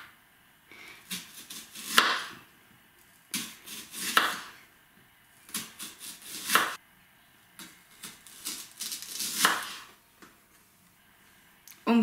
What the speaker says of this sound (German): Jetzt schneiden wir zwei Zwiebeln